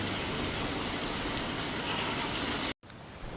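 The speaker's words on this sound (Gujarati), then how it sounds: "તાપીના વ્યારામાં પણ વરસાદ વરસી રહ્યો છે" Rain falling steadily in Vyara, Tapi district, Gujarat, a dense even hiss of drops that runs unbroken, then cuts out abruptly before resuming more softly.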